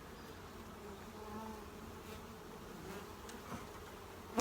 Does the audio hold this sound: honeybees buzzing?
yes